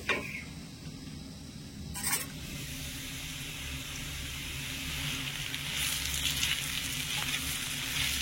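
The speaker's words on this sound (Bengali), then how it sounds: "আর সবজিটা একটু ঢাকা দিয়ে দিয়ে ভাজবো, তাহলে খুব তাড়াতাড়ি করে নরম হয়ে যাবে" Vegetables frying under a lid in a covered pan, a steady close hiss and crackle with a couple of sharp clinks, the sizzle growing slightly louder toward the end.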